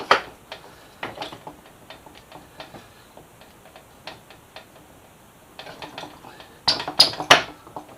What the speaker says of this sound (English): we're going to slide our axle through